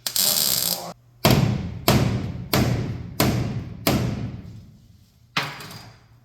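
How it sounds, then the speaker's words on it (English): Hammer blows on a 1966 Chevrolet Impala SS rear quarter panel in a body shop: a long rough scraping rush, then six loud, sharp metallic strikes spaced about a second apart, each ringing out briefly. "So I'm gonna clamp it. I'm not getting involved, but Hammer it away."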